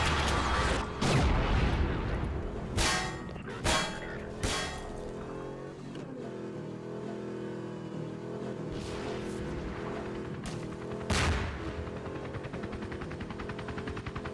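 APC gunfire in a video game, sharp bursts of shots and booming impacts spread across the stretch, some close and loud, over a continuous engine-like rumble.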